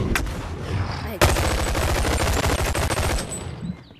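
A big gun fires in BONELAB as a dense, rapid burst of loud automatic shots that starts abruptly and rattles on steadily for about three seconds, with a single sharp shot a moment before it and the noise tailing off at the end.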